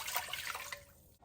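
Vinegar is poured from a measure for pickle brine, a brief soft splashing trickle that fades out after about a second, quiet and close with no voices.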